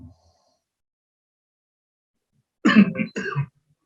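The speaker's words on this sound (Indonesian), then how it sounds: "Oh, batuk juga nih." Two quick coughs close up, breaking an otherwise near-silent stretch.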